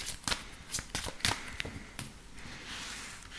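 Tarot cards are shuffled up close in a series of quick crisp riffles and taps, fairly quiet, with no talk.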